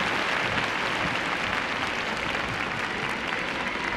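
Dense, steady applause fills a figure skating arena at the 1999 Japan Open as the crowd cheers skater Takeshi Honda, a continuous wash of clapping with no breaks.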